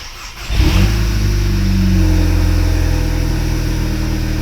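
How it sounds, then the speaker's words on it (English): A Volkswagen Golf 2.0 GTI with a lean-running fault and a check engine light cranks and catches, settling into a loud, slightly rough idle recorded close up with no talking. "when you start the car."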